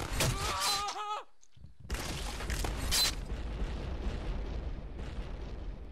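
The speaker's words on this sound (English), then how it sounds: "Could there be any more explosions?" Explosions go off in the physics video game Happy Wheels: a few loud, rumbling bursts separated by a short gap, followed by a lingering low roar that slowly fades.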